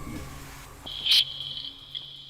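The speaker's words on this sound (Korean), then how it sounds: "풍선에서 바람 빠지는 소리 같죠?" A faint, thin hiss of water leaking from a faulty household water distributor, like a slowly deflating balloon, rising into a brief sharper squeak before fading into low background noise.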